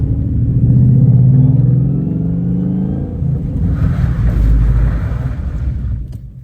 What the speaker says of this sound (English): you can kind of hear the locker locking up, or not locker, but the welded diff doing its welded things